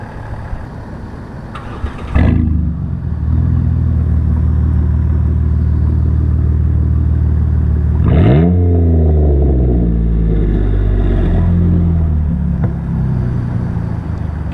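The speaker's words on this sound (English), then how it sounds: "The exhaust is off. Well, the muffler is. It sounds pretty cool" A 4WD engine runs with its muffler removed on a Kimberley outback trip. It starts after a couple of seconds, settles into a loud, deep, rough idle, and blips into a brief rev partway through before dropping back to a steady rumble.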